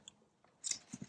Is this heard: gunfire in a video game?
no